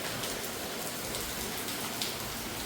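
Heavy rain pours down in a dense, steady hiss of drops striking surfaces, continuous and enveloping with no voices.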